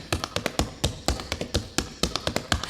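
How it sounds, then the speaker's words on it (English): Feet tap out a traditional step dance's four-sound walking step, a brisk run of crisp, close percussive toe and heel strikes in a repeating pattern, with no voices. "the 4-sounded walking step, which I think of as the time step or root step for this dance form"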